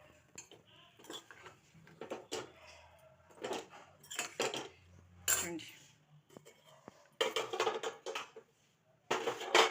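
A spoon stirs curry in a metal pot in a home kitchen, giving close clinks and scrapes in short bursts among pauses, with a voice talking quietly between them.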